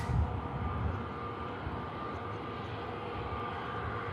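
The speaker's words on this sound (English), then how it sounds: "The EasyJet from Zurich on a quick taxi" EasyJet airliner from Zurich taxiing at Manchester Airport, a steady broadband jet engine rumble and whine held at a constant level throughout, with no speech.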